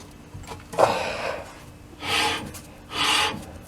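Three separate rasping scrapes of a disc brake rubbing as a 1969 Volkswagen Type 3 Fastback wheel is turned, each lasting about half a second, with quiet pauses between.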